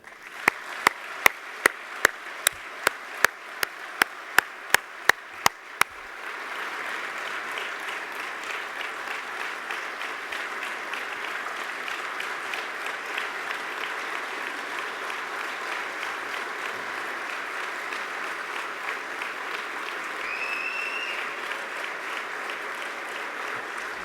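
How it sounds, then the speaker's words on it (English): Audience clapping at the NIADA 2013 National Quality Dealer of the Year Awards, a few loud distinct claps at first swelling into sustained, dense applause from a large crowd that carries on steadily. "please join me in a round of applause to once again thank Mike Lynn"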